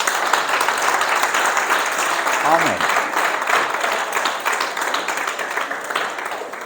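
Church congregation breaking into sustained applause, with many hands clapping at a steady, dense rate. A voice speaks briefly over it.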